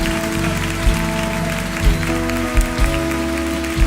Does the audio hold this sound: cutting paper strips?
no